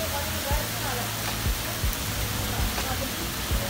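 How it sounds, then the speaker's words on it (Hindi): Heavy rain pours down in Islamabad, a dense, steady hiss of downpour with a few low passing thumps or vehicle sounds underneath. "प्रेशर के साथ बारिश,"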